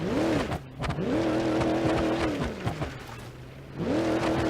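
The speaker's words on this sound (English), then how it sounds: "This is just thrashing around an old muscle car" Old muscle car engine being thrashed in the video game BeamNG.Drive, a loud rumbling motor revving up and down in repeated swells with brief drops between them, close and dominant.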